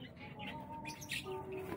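Small birds chirp in a home garden with a little goldfish pond, short bright tweets and a thin whistled note over a faint steady background, no talking.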